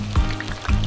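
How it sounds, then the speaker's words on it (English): Okoy batter fries in hot oil on medium heat, a brief soft sizzle with a couple of low bubbling pops. "Drop a large spoonful of the mixture into the hot oil set at medium heat."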